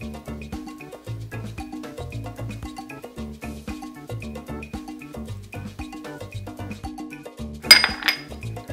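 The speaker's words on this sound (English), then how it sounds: "We're going to mix this together, coating the shrimp with the seasoning." A spoon repeatedly clinks and scrapes against a bowl while seasoning is tossed through raw shrimp, in quick rhythmic taps over a faint melodic bed, ending in a brighter clatter.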